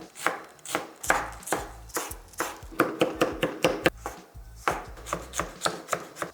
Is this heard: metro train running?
no